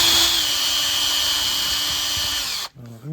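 A high-pitched power tool whines steadily while grinding cured epoxy out of a hole on a wooden CLC teardrop camper build, then cuts off abruptly, followed by a brief voice.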